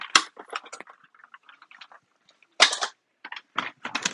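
A toy gun fires a string of sharp, snappy pops, one loud crack at the start and quicker bursts following, with short gaps between.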